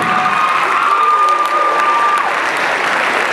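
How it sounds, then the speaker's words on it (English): Loud, dense audience applause for a youth speaker, sustained and close throughout, with a few cheers and shouts mixed in. "Give Gabe one more round of applause."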